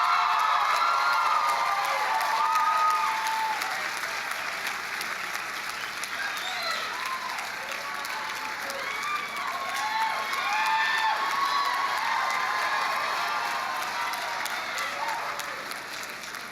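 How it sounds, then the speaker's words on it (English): Graduates at a college commencement applauding and cheering, a sustained wash of clapping with whoops and shouts rising from a large crowd, continuing throughout with no speech over it. "This next one will get a cheer"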